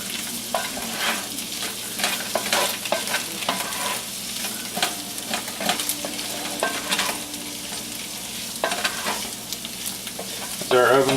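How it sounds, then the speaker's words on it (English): Potatoes, onion, egg and sausage are stirred together in a frying pan, with a steady sizzle underneath and repeated scraping strokes of the utensil through the food, close and continuous with no talking. "we're just going to stir that together good."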